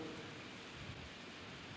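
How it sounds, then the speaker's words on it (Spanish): Rain falls steadily in a faint, even hiss with no distinct drops or voices standing out. "Al cabo que está lloviendo"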